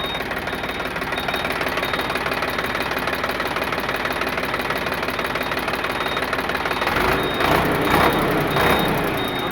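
Sonalika RX 47 50 HP tractor idling with a loud, steady knocking diesel chug close by, roughening with a few heavier bursts near the end.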